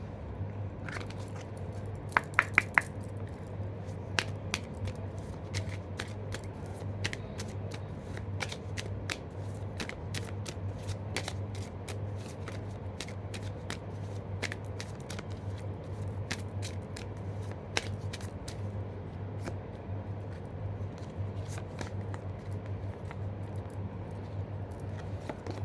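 An Archangel oracle card deck shuffled by hand at close range, soft rapid card flicks and riffles repeating steadily over a low constant hum, with a few sharper snaps early on and no speech.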